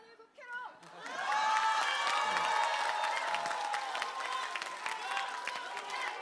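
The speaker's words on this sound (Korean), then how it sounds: "4번 박수 칠 준비하십시오." After a brief voice, a crowd bursts into loud, sustained clapping mixed with cheering and shouts, holding steady and close for several seconds.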